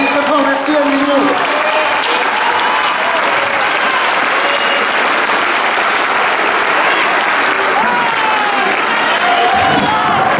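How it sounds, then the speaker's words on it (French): A crowd applauds Anne Mignot loudly at a gathering of the intermittent and precarious workers' collective in Besançon, a dense sustained clapping with some cheering and voices mixed in throughout. "On l'applaudit très fort, merci Anne Mignot."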